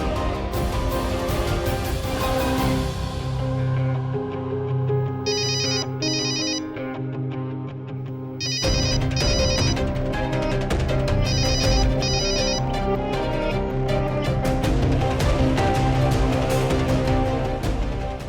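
A mobile phone left behind rings with a repeating electronic ringtone in bursts, loud and close over a steady musical drama score, with no talking.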